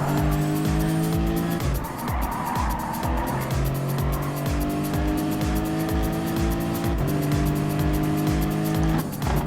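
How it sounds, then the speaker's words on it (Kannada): A Lexus race car in a PlayStation racing game roars continuously with loud, steady engine drone, shifting revs and recurring tire squeal and skidding across the whole stretch, with no talking. "ಲೆಕ್ಸಸ್ ಡ್ರೈವ್ ಮಾಡ್ತಿದ್ದೀನಿ ಇವತ್ತು"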